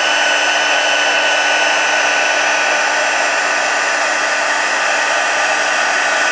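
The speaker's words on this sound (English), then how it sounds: "Turn the heat tool on." A heat embossing tool blows hot air in a steady, loud, continuous whoosh with a fan whine, unbroken from start to finish and close by.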